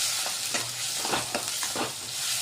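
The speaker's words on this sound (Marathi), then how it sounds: "हे सगळे जिन्नस असे मिळवून घ्यायचं" Turmeric, red chilli, cumin powder and salt being mixed in a hot pan for a peanut and fenugreek bhaji, heard as a gentle sizzle with a series of close, repeated stirring scrapes.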